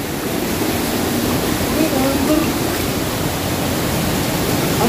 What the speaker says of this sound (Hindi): अबे नीचे से पानी कहाँ से आ रहा है?